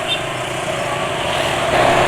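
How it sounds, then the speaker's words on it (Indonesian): A motorcycle engine runs roughly and steadily with a harsh, buzzing drone, close and fairly loud, growing a little louder near the end, with no voices. "Setelah itu langsung suara mesin kasar"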